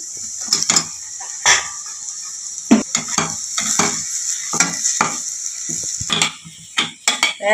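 A spoon scrapes and stirs mashed boiled potato into a masala cooking in a pan for masala dosa filling, irregular clinking strokes against the metal over a faint steady sizzle, close and alone.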